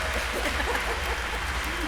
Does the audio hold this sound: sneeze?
no